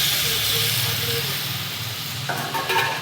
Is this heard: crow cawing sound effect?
no